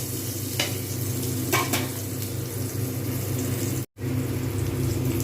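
Onions fry with salt in a pan, a constant close sizzle with a few scraping stirs near the start and a brief dropout of sound near the end.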